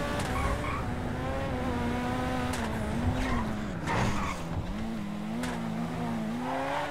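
A big-engined car in a GTA roleplay game drives with a steady droning engine note that rises and dips as it revs, with occasional tire squeal, loud and continuous throughout.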